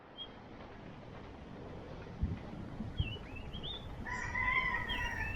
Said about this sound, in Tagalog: malalakas na huni ng ibon at tilaok ng mga manok